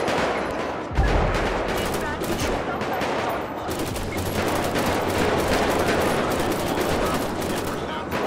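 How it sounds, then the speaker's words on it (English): Dense, continuous gunfire from many shooters at once in GTA 5, a loud chaotic barrage with overlapping shots and no pauses, with voices talking over it. "they're shooting from everywhere"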